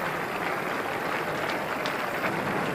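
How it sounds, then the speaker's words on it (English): Cricket crowd applauding around the ground at a World Cup match between South Africa and Sri Lanka, a steady broad wash of clapping that holds evenly for the whole few seconds with no voices on top. "So applause around the ground."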